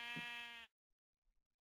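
A single sheep in Minecraft lets out one clear, steady bleat that stops abruptly, followed by near silence.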